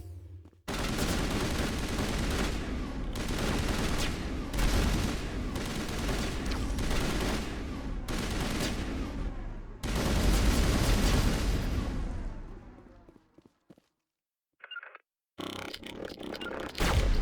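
Sustained sniper and weapons fire from the Mass Effect video game, dense bursts of shots and booms rolling continuously for several seconds, then a brief lull before fire resumes.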